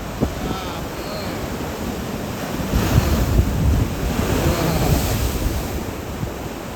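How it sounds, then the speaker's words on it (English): Ocean waves slam against coastal rocks near a sea cave blowhole on Maui, a continuous roaring surf with heavier crashing surges in the middle, heard up close through steady wind noise. "Waves are slamming."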